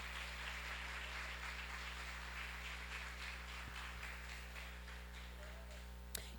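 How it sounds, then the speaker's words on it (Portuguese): A congregation at an evening women's church service applauds, producing a dense wash of clapping over a steady low hum. The clapping thins out after a few seconds. "Você pode aplaudir ao Senhor nessa noite?"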